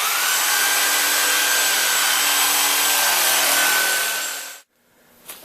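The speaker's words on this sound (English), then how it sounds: "I'm just going to use the trusty reciprocating saw" A reciprocating saw cuts squarely through the base of a Christmas tree trunk, a loud, steady buzzing rasp that runs for over four seconds and then stops abruptly, followed by a brief faint knock.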